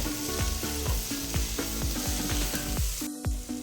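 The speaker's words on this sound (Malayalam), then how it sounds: "ഇനി ഇതിലേക്ക് 2 വലിയ പഴുത്ത തക്കാളിയാണ് ചേർത്ത് കൊടുത്തിട്ടുള്ളത്. അതും കൂടി നന്നായിട്ട് മിക്സ് ചെയ്ത്" Two large ripe tomatoes frying in a pan for chicken biryani and being mixed, with a loud sizzle and regular clanking, scraping strokes of a ladle against the pan in quick rhythm, close up.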